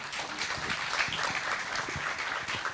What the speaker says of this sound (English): So let's give a big round of applause to our panelists